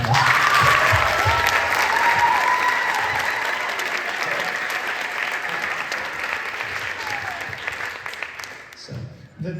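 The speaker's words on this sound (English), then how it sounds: "Can we give them one more round of applause?" Sustained audience applause and crowd cheering at a high school percussion night, honouring three senior percussionists; loud and dense at first, then gradually thinning and tapering off toward the end.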